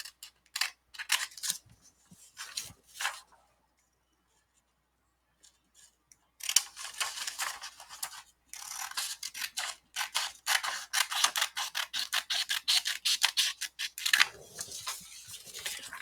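Scissors cut out paper for a math notebook in close, crisp snipping runs: a few short cuts, a quiet pause, then a long steady series of rapid snips.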